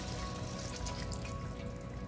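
Water pours into a pot of simmering beef curry made with bottom round roast, a soft, steady liquid stream close by and faint against kitchen hum.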